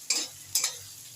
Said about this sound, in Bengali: আদা রসুন বাটা আর পেঁয়াজ আমি ভালো করে ভাজা করে নিয়েছি।